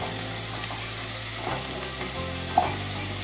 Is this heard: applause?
no